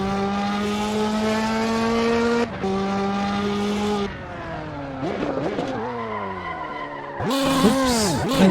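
Tires squeal through a skidding turn in a racing video game, the car's engine howling in sustained rising and falling tones with the whine sliding as it loses grip, close and loud with no talk.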